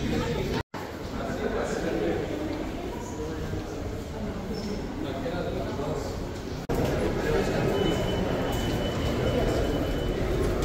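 Metro train at a busy subway station during rush hour, a steady broadband rumble of the train and platform filling the whole stretch, with a brief dropout and a slight shift partway through, while people chatter in the background.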